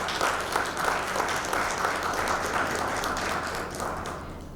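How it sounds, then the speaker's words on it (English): Applause for the chief guest at a women in maritime conference and award event, a large audience clapping in a thick, sustained wash that stays loud and even, easing slightly toward the end. "Can we have a round of applause for our chief guest?"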